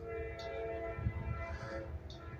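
A freight train in McCormick, South Carolina blows its horn in sustained tones while wheels rumble low, heard at moderate distance and fairly faint, with no talk.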